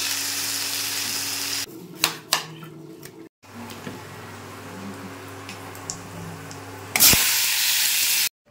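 A cauliflower and potato curry sizzles in the pan, quiets with a few soft knocks, then bursts into a loud hissing sputter as water is added before cutting off.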